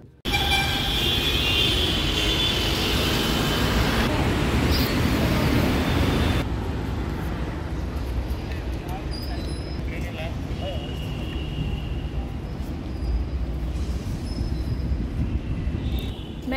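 A train at a railway station in Bengaluru produces a continuous loud rumble and rolling clatter that runs throughout, with people talking over it.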